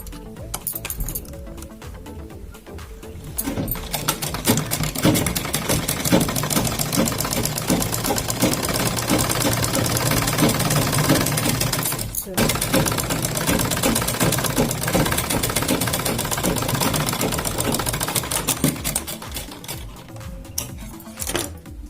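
Domestic sewing machine stitching a kurti, a steady fast mechanical whir with rapid needle clatter running almost continuously, close and loud, with one brief pause near the middle.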